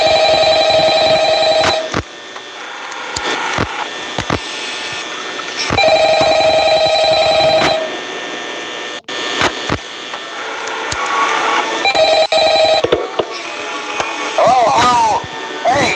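Phone ringing in the video game Five Nights at Freddy's, several repeated trilling rings in bursts over a steady background hum, with clicks and thumps and a voice heard between rings.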